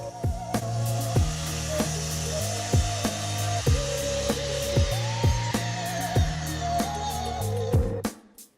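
A hand saw cuts a straight line through wood for a Roubo-style workbench, with regular back-and-forth strokes about twice a second, close and even, stopping abruptly at the end.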